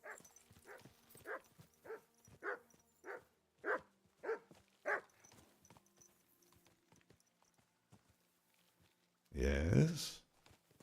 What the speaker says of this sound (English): Just barking for no purpose